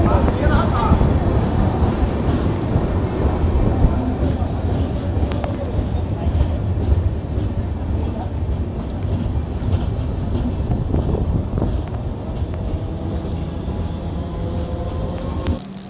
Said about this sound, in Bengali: ট্রেন এসে পৌঁছালো তার ফার্স্ট হল্ট সাক্ষীগোপাল